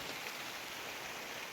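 Heavy monsoon rain pouring outdoors around an open-air cooking spot where food offerings are being prepared, a dense, even hiss with no break, fairly faint and distant.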